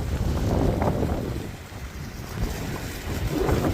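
A waterfall on the North Shore at Blackpool gives a continuous rushing, splashing wash of water mixed with outdoor wind noise, steady throughout with slight swells and no talking.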